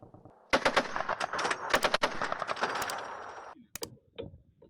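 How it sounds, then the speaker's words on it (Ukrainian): Rapid bursts of machine gun fire rattle loudly for several seconds at the front in Zaporizhzhia, followed by a few scattered single shots. "кулеметник починає стріляти по цілі"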